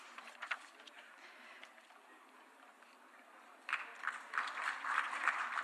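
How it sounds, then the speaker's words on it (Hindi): A conference audience at a national conclave in India bursts into applause partway through, a dense patter of many hands that swells and stays loud to the end after a quieter, murmuring start. "huge round of applause for Rochi Malina from Mizoram for Man Ki Baat"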